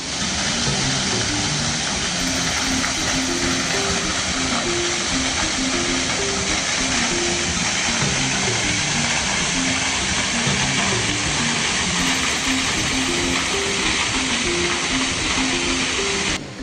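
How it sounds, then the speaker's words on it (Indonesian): A waterfall on the upper reaches of a forest river, heard as a loud, continuous broadband rush of falling water that stays steady throughout, with no talking. "di bagian hulu sungai akan terdapat banyak air terjun"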